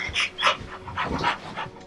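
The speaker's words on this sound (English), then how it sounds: "This dog is extraordinarily... He's freaking out." An agitated dog pants rapidly and close by, in quick uneven bursts of breath with a few soft whimpering tones and no voices.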